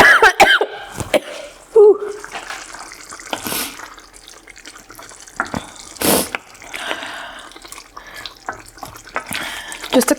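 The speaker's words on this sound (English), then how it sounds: "it wasn't the heat that made me cough" Someone coughs several times in a home kitchen after food goes down the wrong way while tasting a minced meat and peas curry. The harsh, separate bursts come with a running tap and some brief talk.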